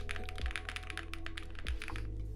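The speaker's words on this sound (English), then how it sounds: "it's a very soft typing experience to me" Rapid typing on a Jelly Epoch prototype keyboard with Durock POM linear switches, a fast, dense run of soft, muted keystrokes over a low steady hum, close up and without talking.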